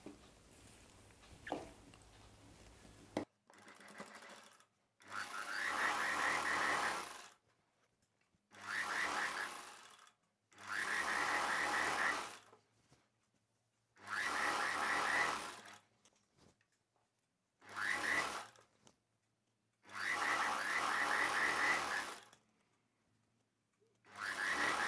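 A sewing machine runs a palazzo pant seam from one leg end to the other in about seven steady bursts of stitching with short pauses between, close and fairly loud, after a quieter start.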